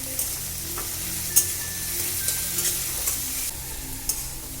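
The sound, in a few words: chopped tomato frying with onion and garlic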